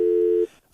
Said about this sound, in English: that's the sound of the dial tone when he hung up the phone